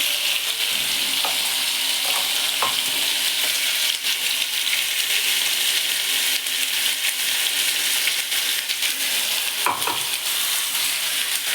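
Banana curry with plenty of onion and spices fries in a pan, a loud, steady close-up sizzle lasting throughout, with occasional scraping knocks of a spoon stirring and turning the mixture.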